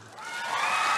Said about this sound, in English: We should take a moment to give him a round of applause.